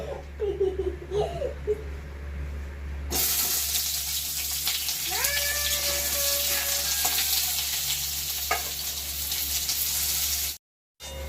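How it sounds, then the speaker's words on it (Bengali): Potato pieces fry in a wok on a home kitchen stove, giving a steady broadband sizzle that starts abruptly and holds loud and close, with brief clinks near the end. "এবারে আমি আলুগুলোকে ভেজে নেব।"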